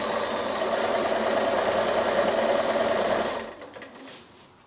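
A sewing machine stitches quilt binding with a steady, close mechanical whir for about three seconds, then slows and fades to a quieter hum.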